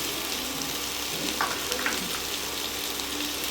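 Ivy gourd and green chillies fry in hot oil, giving a continuous, dense close sizzle with a few faint clicks from stirring.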